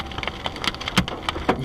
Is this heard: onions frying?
no